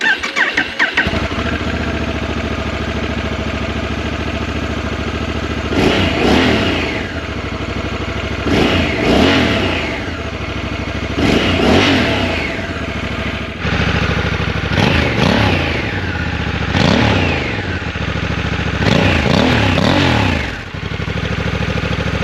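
A 2026 Honda Africa Twin Adventure Sports engine cranking to life, then idling steadily with about six sharp revs rising and falling at regular intervals, loud and close with no talking.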